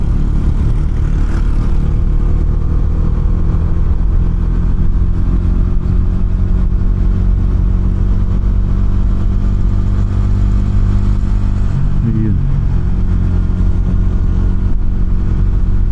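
A Bajaj Dominar 400 UG2 motorcycle rides along with a constant, loud engine drone and road rumble, and a brief shift in pitch comes about three-quarters of the way through.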